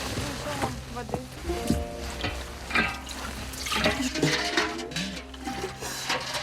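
Water splashes and trickles from a bucket into a container at close range, with faint clinks of a vessel and soft background noise.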